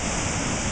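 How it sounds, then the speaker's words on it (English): Waterfall at Sandy Creek Falls, a steady broadband rush of falling water that fills the whole short stretch at close range without any break or pause. "Here we are at Sandy Creek Falls."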